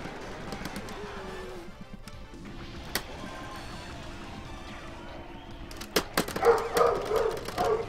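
Pet dog whimpering and yipping in a home, a few short bright yelps near the end after a stretch of quieter background sound.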